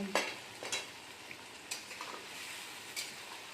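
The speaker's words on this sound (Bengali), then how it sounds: "চলুন বন্ধুরা আমরা মাটনটাকে ভালো করে কষিয়ে নিই" Mutton being stir-fried in a pan, with a faint, steady sizzle and a few scattered scraping stirs of a spatula against the metal.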